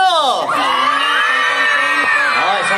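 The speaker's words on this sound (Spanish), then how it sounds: "yo quiero escuchar una fuerte bulla de los niños" A crowd of children at a Christmas-season opening event in San Carlos, Cojedes, Venezuela, shouts loudly on cue, forming a sustained, high-pitched chorus of yells and whoops close by.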